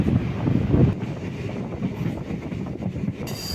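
Kollam–Punalur MEMU train running between stations, a steady rumbling roll with wind buffeting and faint rhythmic clatter, heard from on board.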